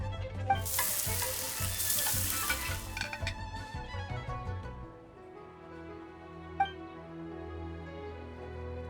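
Frying and sizzling in the video game Genshin Impact, a loud hiss of hot food with clinks of utensils that fades out partway, leaving soft musical tones and a single bright chime.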